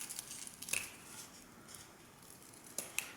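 Scissors snip through folded paper to shape flower petals, a few quiet, close crisp cuts with soft paper rustling between them.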